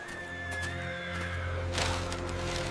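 A royal mare neighing, a loud close whinny that rises and trails off, with a low steady rumble and a burst of noise near the end.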